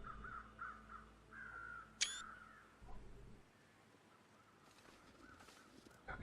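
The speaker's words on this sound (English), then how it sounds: "I can definitely hear a set of crows over there." Faint crows caw a few times in the distance over a quiet, steady background in the video game The Long Dark, followed by a sharp brief click.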